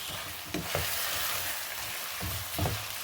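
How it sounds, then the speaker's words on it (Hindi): Onion paste frying in a kadahi for white chicken, a soft, steady sizzle broken by a few brief scraping stirs, with no talking. "प्याज के साथ इसे हम 5 मिनट अच्छे से भून लेंगे।"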